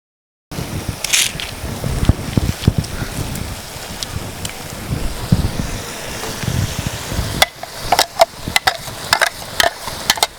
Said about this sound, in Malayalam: ഈ അരപ്പ് നമുക്ക് ഈ ചിക്കനിലേക്ക് ചേർത്ത് കൊടുക്കാം.